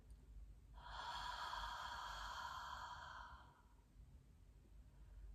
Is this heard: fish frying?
no